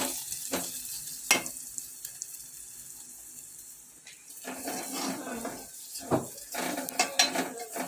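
Egg fry sizzles in a pan while being stirred, with a steady frying hiss broken by sharp scrapes and clinks of the spoon against the pan.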